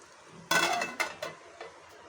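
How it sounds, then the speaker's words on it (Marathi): A metal lid clanks off a pot of masoor dal with onion, followed by a few lighter scraping knocks of a spoon stirring the cooked lentils, all close and fairly quiet. "झाकण काढते आणि डाळ शिजली की नाही ते बघते"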